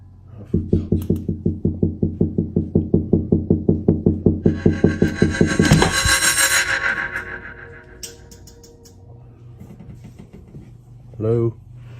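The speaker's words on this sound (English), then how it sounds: "the sound of knocking can be heard echoing off the cupboard door" Rapid, regular knocks on a cupboard door come in a fast series of about two dozen sharp raps, close and loud, then stop and give way to a louder sweeping burst and a brief vocal sound.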